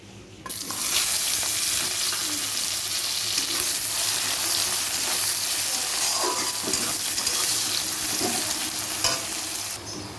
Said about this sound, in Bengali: পেঁয়াজগুলো আমার ভাজা হচ্ছে